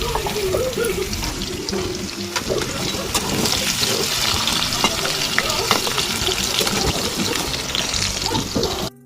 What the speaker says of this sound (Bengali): ডুমো ডুমো করে রাখা আলুগুলোকে দিয়ে দিলাম এটাকে একটু লাল লাল করে ভেজে